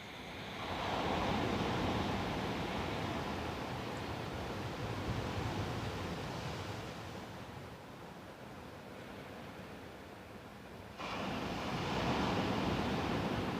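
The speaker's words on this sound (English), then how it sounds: "God, I love the ocean." Steady wash of ocean surf rolling in, a broad continuous roar that eases slightly mid-way and swells again near the end, with no voices.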